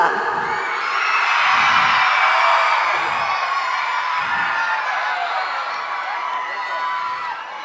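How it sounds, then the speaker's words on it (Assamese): A large crowd of girls screams and cheers for actors appearing on stage at an Assamese film promotion event, a loud sustained roar of shrieks and whoops with some deeper shouts pulsing through. "এইবাৰ ছোৱালীবোৰে খুব চিঞৰিছে আমাৰ অভিনেতাসকলক দেখি"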